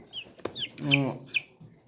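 A hen clucks near a person who is weighing poultry, giving a few short clucks and one longer drawn-out call, with someone softly coaxing the bird nearby.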